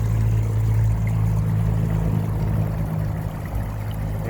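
Water runs through a pondless waterfall with its pump on, giving a steady broadband rush over a low motor hum, constant and fairly close, with no voices.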